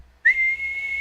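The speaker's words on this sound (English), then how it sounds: "they bring it towards their lips, and then they blow, and it makes a loud whistle sound" After a brief quiet moment, one loud, piercing finger whistle is blown through the lips and held steadily at a high pitch, standing alone for most of a second.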